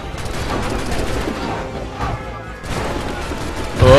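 Cannon and gunfire during a battle in the video game Assassin's Creed 3, heard as a loud, dense, continuous barrage of booms and crackling volleys with brief dips in intensity.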